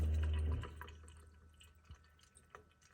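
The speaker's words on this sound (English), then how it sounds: "here the discharge water goes through the air gap." Reverse osmosis discharge water draining through a dishwasher air gap under a sink, a short gurgling gush that quickly fades into scattered drips and trickles.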